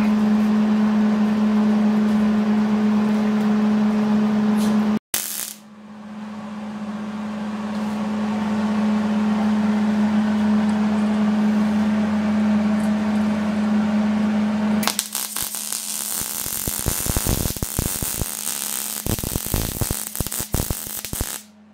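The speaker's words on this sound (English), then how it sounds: "Little man wants to learn how to MIG weld" A steady electrical hum runs for about fifteen seconds, then a MIG welder crackles and sputters in a loud, irregular buzzing burst that continues to the end, close to the listener and with no talking.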